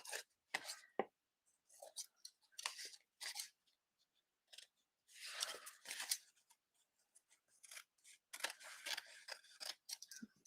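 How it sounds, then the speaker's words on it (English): Scissors trim craft card in close, quiet bursts of snipping and crisp paper cuts separated by short pauses. "I'm going to cut this off, trim it up."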